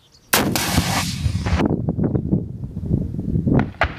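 An RPG-7 rocket-propelled grenade launcher firing outdoors, a sudden loud blast with a whooshing rush that decays into rumbling echoes and wind buffeting the microphone.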